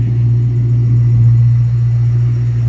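A 1998 Mustang Cobra engine with a Kenne Bell supercharger idles steadily and smoothly with a deep, constant hum, loud and close, with no revving or stumbling.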